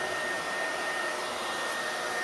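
A hair dryer blowing during a blow-dry styling session, a steady airy whirring hum held continuously at moderate distance with no talking.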